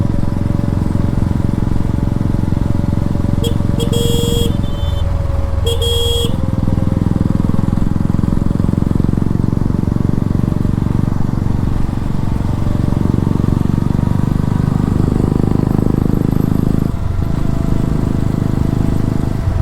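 A motorcycle fitted with a changed aftermarket exhaust rides along a rough village road, its engine droning loudly and continuously throughout, with a couple of short horn beeps early on and shifts in engine pitch.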